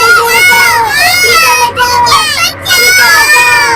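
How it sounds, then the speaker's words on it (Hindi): Several children crying and wailing together as a horror story sound effect, loud and close, with overlapping high sobbing cries that rise and fall continuously. "उसे बच्चों के रोने की आवाज सुनाई देने लगी।"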